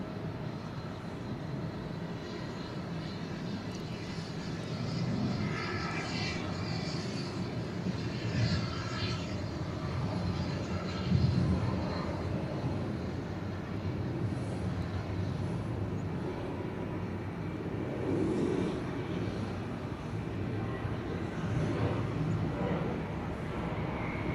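Delta airliner departing Atlanta airport, a steady broad jet roar holding loud and constant throughout, with faint radio voices underneath.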